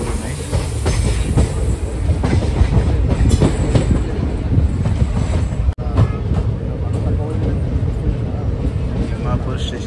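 Passenger train on the Kurnool to Secunderabad line near Timmapur, rolling on rails with a steady loud rumble and faint clickety-clack throughout, with a brief dip near the middle and voices faintly in the background.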